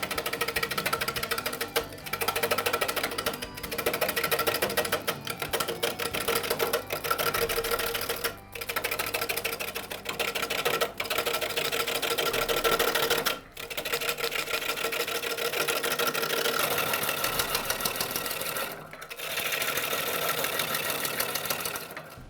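A wood lathe turns a large, rough piece of juniper with a loud, rapid, rhythmic chattering as the tool bites the uneven blank, broken by a few brief pauses.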